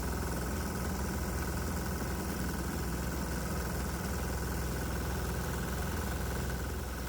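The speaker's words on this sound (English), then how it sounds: "the knocking sound I'm hearing may destroy the engine" A diesel engine running on vaporizer fumes from bug juice drones steadily and loudly with a constant knocking vibration, close up and without pause.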